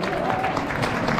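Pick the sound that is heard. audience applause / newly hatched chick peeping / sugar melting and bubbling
audience applause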